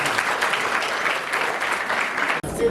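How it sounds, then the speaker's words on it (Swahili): An audience applauds a lawyer at a comedy talk show discussing a cyber law, with dense, steady clapping that stops abruptly near the end. "Makofi kwake wakili wewe."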